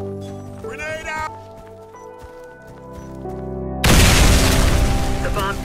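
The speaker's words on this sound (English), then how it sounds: "The bomb detonated." A bomb detonates in the shooter game Warface, one sudden loud booming blast that cuts in late and rumbles on, following quieter game sounds and a voice talking.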